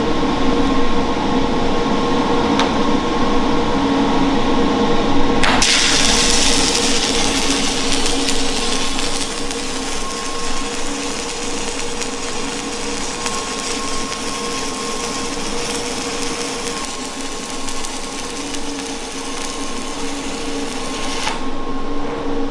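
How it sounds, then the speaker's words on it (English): Stick welding with a 3/32 Lincoln Excalibur 7018 rod at 100 amps on a Lincoln Power MIG 215 MPi makes a continuous, close crackling buzz that runs unbroken for over twenty seconds, slightly louder at first. "Smooth arc, really smooth arc on that. At 100 amps, that ran really good."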